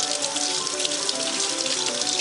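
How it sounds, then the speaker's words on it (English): Steady running water from a kitchen tap splashes over string cheese being rinsed, a constant close hiss with no pauses and no talking. "Now I rinse it off to get some of the butter off."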